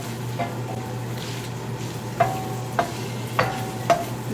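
Bacon frying in a pan on a stovetop: a steady soft sizzle under several sharp scrapes and taps of a utensil against the pan.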